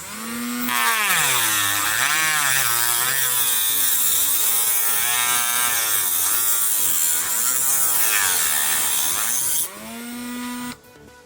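A loud power tool whines steadily while cutting around a store's anti-theft ink security tag on a pair of pants, its pitch rising and falling as the load changes, running almost nonstop for about ten seconds before cutting off.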